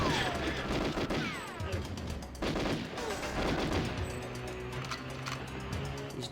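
Gunfire from the Nintendo 64 game GoldenEye 007, with rapid clusters of sharp shots as bullets strike walls, set against a busy game soundtrack.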